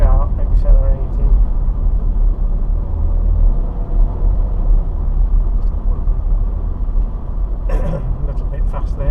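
A car's engine rumbles steadily as it gradually accelerates out of a bend on a road with a 40 to 50 mph limit, heard from inside the cabin as a low continuous drone.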